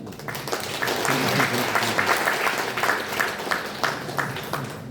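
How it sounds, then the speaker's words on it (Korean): An audience at a Korean church thanksgiving service and seminar applauds loudly as a guest speaker enters, producing dense, continuous clapping that swells and holds for several seconds with no talk over it. "나오실 때 큰 박수로 모시겠습니다."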